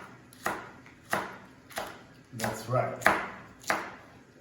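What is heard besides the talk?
knife chopping vegetables on a board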